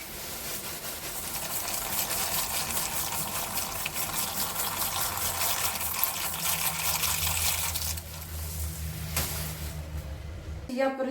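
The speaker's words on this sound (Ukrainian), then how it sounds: "ставлю водичку на макарони" Tap water gushes steadily into a pot for pasta in a home kitchen, a continuous loud rush that deepens in pitch as the pot fills, then cuts off near the end.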